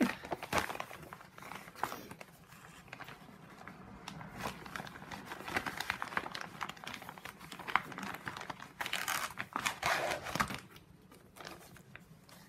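Crinkling plastic and paper packaging of a printed cross-stitch kit being unwrapped and handled up close, with steady rustles and sharper crackling bursts, no talking.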